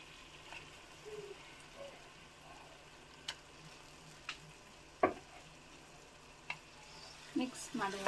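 Chicken pieces frying in a pan with onion, tomato and chili, a soft, steady sizzle broken by occasional clicks and a few louder scraping knocks of stirring, faint and close.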